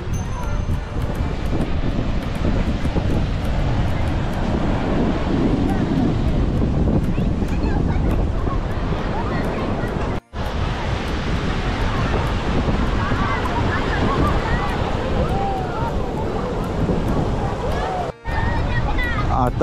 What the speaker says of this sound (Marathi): हा खवळलेला समुद्र जितका दिसायला सुंदर आहे ना तितका तो खतरनाक सुद्धा आहे